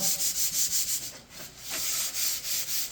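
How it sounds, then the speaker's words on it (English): A spackled wall piece is sanded smooth by hand. Steady rhythmic scraping strokes, about a dozen back-and-forth passes, are close and clear with no talk. "we're going to give this a full sand all the way down"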